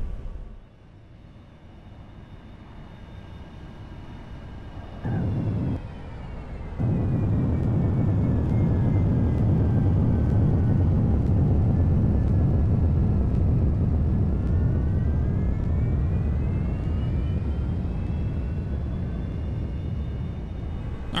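Simulated Boeing 737 landing at Memphis in X-Plane 11, with a steady loud engine roar and rushing noise that swells after a brief dip early on, then drifts slowly in pitch and holds through to the end.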